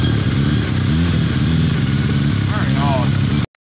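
A Suzuki Hayabusa motorcycle engine running steadily at about 2000 RPM, loud and close, under a man's speech, cutting off abruptly near the end.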